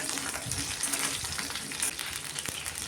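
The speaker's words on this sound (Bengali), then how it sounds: "তো পটলগুলো এখানে ভালো করে ভেজে নেবো, একটু টাইম নিয়ে ভাজতে হবে।" Pointed gourd (potol) pieces fry in oil, a continuous close hiss and sizzle with scattered soft crackles and one faint clink, no talking.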